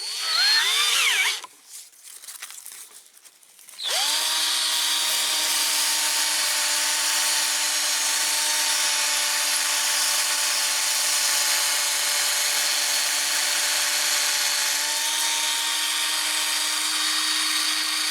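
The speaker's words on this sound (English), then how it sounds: "Okay, so I've got one of the axles in the drill." A power drill spins a die-cast toy truck axle against sandpaper: a short burst of grinding and stopping, then a steady, close, continuous whine that runs unbroken for about fourteen seconds.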